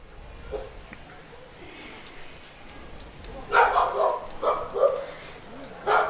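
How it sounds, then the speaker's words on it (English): A dog barks repeatedly near a baseball field during a college game between Piedmont and LaGrange, a few sharp barks and yips in quick bursts, fairly distant over quiet ambient crowd noise. "We have a canine out there barking on the 1-2 delivery."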